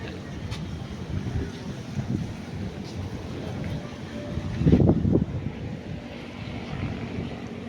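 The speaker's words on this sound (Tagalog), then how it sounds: "Medyo malakas po ang hangin ngayong oras na to." Steady strong wind on a roof deck rumbles and buffets the microphone throughout, with a louder gust swelling near the end; faint murmuring underneath.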